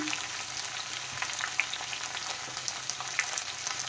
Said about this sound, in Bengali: আলুটা কিন্তু খুব ভালোভাবে ভেজে নেবো